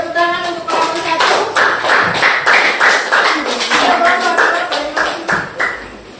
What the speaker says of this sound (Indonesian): boleh tepuk tangan untuk kelompok satu.